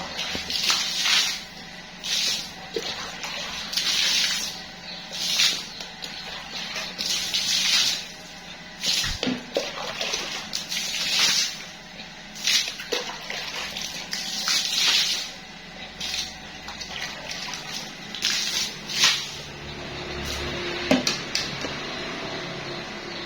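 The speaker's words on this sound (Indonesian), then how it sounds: "Aku siram." Water sprayed and splashed across a yard for cleaning, a loud repeated gushing hiss in bursts of several seconds, with brief knocks between sprays.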